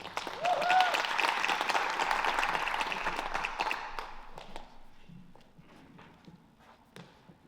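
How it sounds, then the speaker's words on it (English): A round of applause breaks out for a girls' athletic team at a school sports recognition event, a dense wash of clapping that is loudest at first and thins out toward the end, with scattered individual claps near the finish. "So, round of applause for these young ladies."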